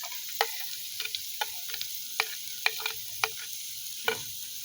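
Chopped green chili stirred into a pan while cooking chowmein, with sharp spatula ticks against the metal at an uneven pace over a soft, steady sizzle.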